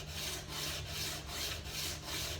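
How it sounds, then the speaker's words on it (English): A steel card scraper's edge is rubbed back and forth on a sharpening stone in steady, close, gritty strokes, about five passes with brief pauses at each turn, with no talking. "take it to the stone on the very edge, and we're just trying to keep that perpendicular to the actual stone itself. So I'm going to go back and forth."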